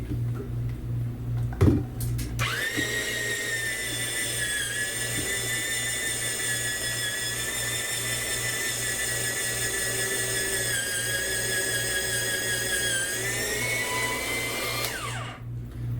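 An electric salad shooter grating cheese, a bump and clatter of loading followed by a steady high-pitched motor whine that runs evenly for about twelve seconds before winding down and stopping.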